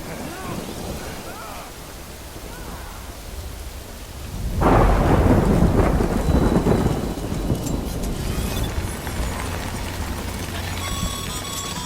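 Steady rainfall patters in the video game Death Stranding, then a heavy thunderclap rumbles in partway through and rolls on under the continuing rain.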